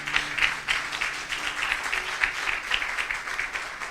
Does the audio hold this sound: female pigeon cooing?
no